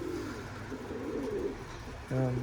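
Pigeons at a perch by a door coo in low, soft rolling tones under a steady background hiss, ending with a louder, close throaty coo.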